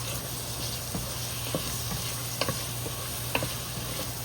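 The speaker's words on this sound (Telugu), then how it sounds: "సో టొమాటోస్ యాడ్ చేసి కొంచెం బాగా మిక్స్ చేయాలి" Tomatoes stirred into frying ginger garlic paste for mushroom pulao sizzle steadily, with occasional light scrapes and clicks of the spoon against the pan.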